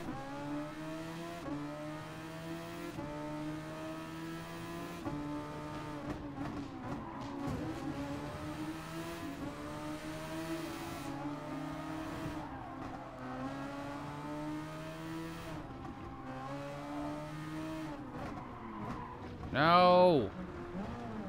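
Super Formula race cars on track in Gran Turismo Sport, a continuous high-revving engine whine rising and dropping with gear shifts for the whole stretch, ending in a brief loud tire squeal, with a voice talking over it.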